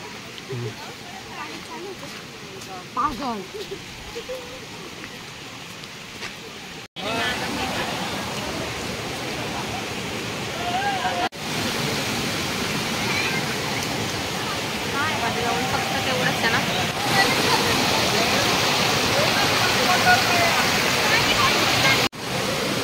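Pahine Necklace waterfall near Trimbakeshwar rushes in a steady, broadband roar that grows louder as it is approached, with faint voices early on.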